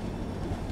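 The Jaipur Junction–Jodhpur Intercity Express, hauled by a DP40 diesel locomotive, makes a steady low rumble. It is a short, continuous roar with no talk.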